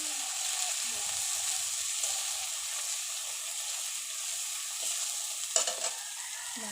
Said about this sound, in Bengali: লঙ্কা দিয়ে দিলাম।